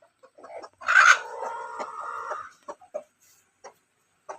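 A domestic hen inside a house lets out one loud drawn-out cackling call close by, then a few short soft clucks spaced out in the quiet that follows.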